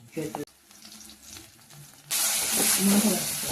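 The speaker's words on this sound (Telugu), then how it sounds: "అల్లం బాగా వేగిన తర్వాత కొద్దిగా కరివేపాకు వేసుకోవాలి" Curry leaves dropped into hot oil with frying ginger for chicken curry, a loud sudden sizzle bursting in after quiet kitchen sounds and a few spoken words, then crackling steadily and close.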